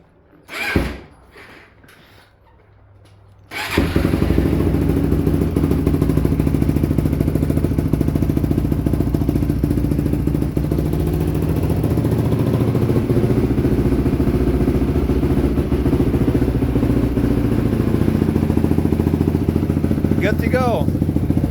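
A 2006 Yamaha YFZ450 quad, recently fixed after a no-fire fault, idles loudly in gear close by. Steady engine drone takes over after a few seconds of quieter handling clatter at the start.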